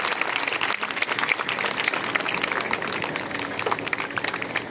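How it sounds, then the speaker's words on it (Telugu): An audience gives dense, sustained clapping at a farewell meeting of a vocational skills training centre in Mahbubnagar, with the applause continuing evenly for several seconds. "గట్టిగా చప్పట్లు కొట్టాలి."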